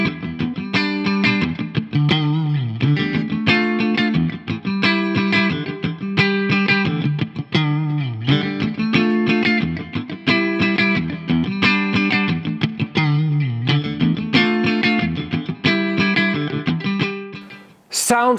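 A Fender American Professional Classic Telecaster electric guitar plays a rhythmic riff of repeated chords with effects and slight distortion, continuous and close for about eighteen seconds before stopping.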